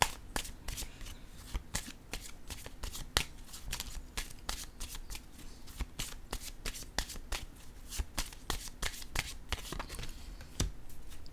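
Tarot cards are shuffled close by in quick, repeated crisp riffles and flicks, a continuous papery rhythm with faint background and no talk.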